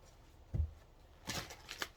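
Tarot cards being shuffled by hand, a soft thump followed by a couple of riffling bursts of paper flicking, close and quiet.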